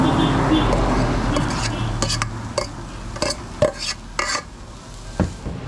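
Grated coconut is tipped into a pan and stirred, giving scraping, clattering strokes of a utensil against metal at an irregular rhythm, loud and close, with a low sizzle underneath and speech in between.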